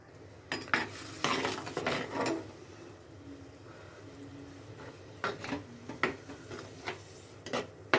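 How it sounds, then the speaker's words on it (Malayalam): Masala paste being sautéed in coconut oil in a pan for Aila (mackerel) fish curry, with repeated scraping and clanking of a utensil against the pot in bursts, a faint sizzle beneath, and quieter pauses between. "അരപ്പൊന്ന് വഴറ്റിക്കഴിഞ്ഞാൽ നന്നായിട്ട് വഴറ്റണം."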